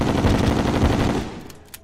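A rapid-fire gun shooting at a training dummy in Terraria, a loud continuous rattle of fast shots for over a second that cuts off, leaving a brief faint click.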